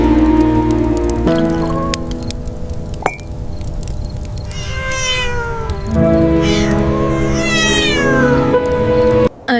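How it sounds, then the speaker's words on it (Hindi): A cat meows several times, drawn-out and wavering calls that rise and fall, heard outdoors in wintry weather over steady rain-like hiss and a low musical bed. "इतनी क्यूट बिल्ली, मैंने तो इसे अभी देखा"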